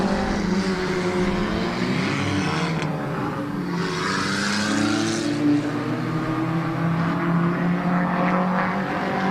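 A race car circles a small speedway oval during qualifying, its engine droning steadily with rising and falling pitch as it laps, heard from a distance with no voices.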